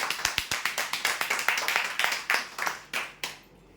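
Brisk, rhythmic clapping at a prize draw celebrates a winner of a tea table with a glass top. The claps are sharp and close, and the pace slows and fades out at the end.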